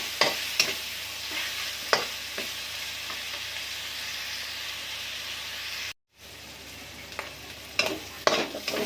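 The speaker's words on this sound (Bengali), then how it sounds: "তারপরে আমি নেড়ে দিচ্ছি একটু কিছুক্ষণ এইভাবে আমি কষে নেবো" Malabar spinach and shrimp curry being stirred and sautéed in a pan: a steady close sizzle with repeated scrapes of a spoon against the pan, briefly cut off near the end, with no talking.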